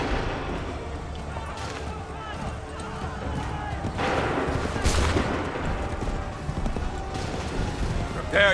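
Musket volleys ring out in Assassin's Creed III, broad bursts of gunfire rising around the middle and again near the end over a busy battlefield din, with hooves clattering and voices shouting underneath.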